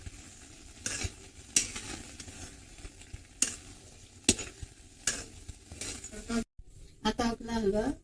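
A spoon scrapes and stirs halwa in a hot pan as cashew-almond paste is mixed in, with soft sizzling underneath and sharp, repeated scraping strokes at irregular intervals, followed by a brief pause and busier clattering.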